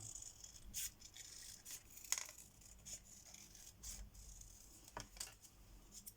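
Scissors snip a strip from a sheet of card for a handmade vintage-style greeting card, giving soft, faint, irregular crisp cuts and rubbing sounds close by in a quiet room.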